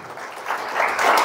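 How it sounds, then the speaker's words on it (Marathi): Audience applause at a motivational direct-selling talk, a crowd clapping that swells steadily louder over a short stretch, with no voices over it. "हे रत्नासाठी आपण पाहिजे तेवढं कौतुक म्हणून टाळ्यांचा अभिषेक एकदा करून टाकू."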